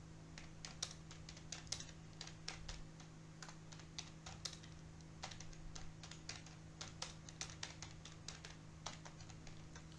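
Python code typed on a computer keyboard: quick, irregular clusters of soft key clicks with brief pauses between bursts, close and fairly quiet over a low steady hum, with no talking.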